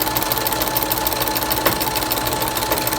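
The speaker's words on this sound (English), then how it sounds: "I'm going to back stitch and cut my thread." A sewing machine runs steadily while stitching the seam of a fabric face mask, a continuous close whirring hum with no pauses and no voices.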